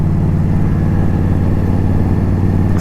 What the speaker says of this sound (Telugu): Indian scout